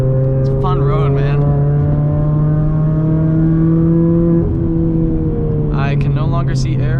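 A car engine revs out on a touge mountain road at sunset, a loud steady drone with rising pitch that dips briefly near the middle and climbs again, heard close from inside, with talk over parts of it.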